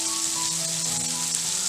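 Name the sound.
spice powders frying with browned onions in pan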